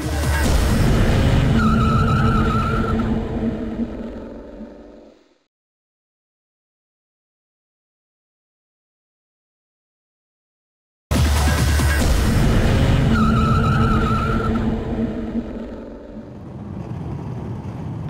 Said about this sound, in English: more stock car racing in a moment